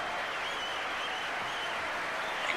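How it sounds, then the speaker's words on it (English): Steady applause for a guest joining a live stream, a continuous even patter of clapping throughout without any clear voices. "Big round of applause, everyone, for Rarity Bobarity."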